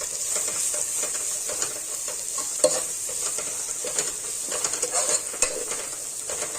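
Ginger garlic paste and turmeric fry in oil for a mutton curry, giving a bright, continuous hiss with frequent soft stirring scrapes and a few sharper clicks of a spoon against the pan, close up and without speech.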